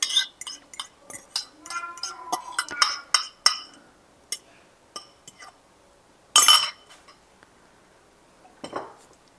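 Beaten eggs being mixed into a milk and yeast mixture for challah dough, heard as scattered clinks and taps of a utensil against a bowl, with a few sharper knocks and quiet gaps between.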